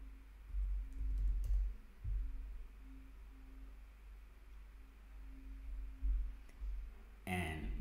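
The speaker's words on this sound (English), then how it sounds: "I'm just going to type in an easier one" Someone types on a computer keyboard in short, quiet bursts of clicking keys over a faint hum, with a sharper flurry of keystrokes at the end.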